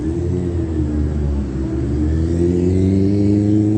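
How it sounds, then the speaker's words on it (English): A motorcycle engine rumbles loud and close, a steady low throaty drone that climbs slightly in pitch as it revs and passes. "That's a motorcycle."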